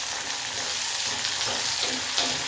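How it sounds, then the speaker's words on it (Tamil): Shallots and garlic sauté in a pan, giving a dense, steady, loud sizzle that continues without a break, with no talk. "சின்ன வெங்காயத்தையும் சேர்த்து நல்லா வதக்கணும்"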